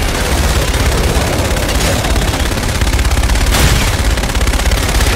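Sustained rapid automatic cannon fire from an aircraft gun run in Call of Duty: Infinite Warfare, a dense continuous roar of shots with heavy low booms throughout, loud and close, with no talk.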